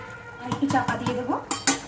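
A metal lid is lifted off a pot of oil-free chicken curry, clanking against the rim in a few short metallic knocks, with a voice talking over it at close range.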